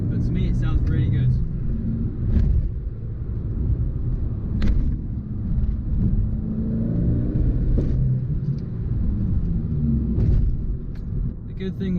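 An Abarth 595 hatchback engine drones steadily while driving on the road, a low continuous rumble with slight rises in revs, heard from inside the car with someone talking over it.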